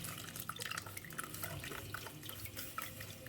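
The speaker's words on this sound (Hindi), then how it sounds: "तो इसको ना मैं 1-2 बार अच्छे से वॉश करूँगी। देखिए, पानी डालने के बाद" Halim (aliv) seeds are washed in water by hand, with a constant close sloshing and swirling of liquid, small splashes and drips throughout.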